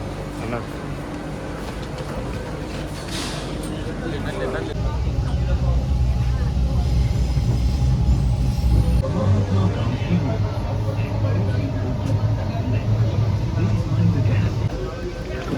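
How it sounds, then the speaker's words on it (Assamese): A metro train pulls into a station on a route toward MG Road and passengers board, with a steady loud rumble of the train and crowd murmur throughout, the low drone growing heavier midway as the train arrives and people step aboard. "মেট্ৰ' আহি গ'ল এতিয়া মেট্ৰ'ত সোমাই গ'লোঁ গৈ"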